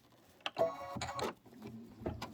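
An embroidery machine stitches a lighter blue thread on an autumn apple and hay ride design, giving a close, quiet mechanical whirring and rapid ticking that runs steadily for a couple of seconds with a few sharper clicks.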